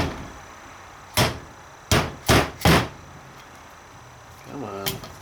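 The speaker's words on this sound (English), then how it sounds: "I'm using my soft blow hammer." Soft blow hammer tapping a new seal into an overdrive unit during a 42RH / A500 transmission rebuild: four sharp, close strikes, the last three in quick succession, followed by a faint rattle.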